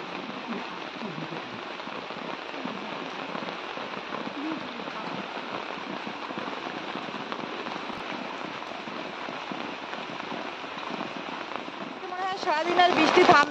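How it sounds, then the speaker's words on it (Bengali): Heavy rain pours down steadily in a broadband hiss that holds at an even level throughout, swelling a little louder near the end. "আবার দেখো খুব বৃষ্টি শুরু হয়ে গেল।"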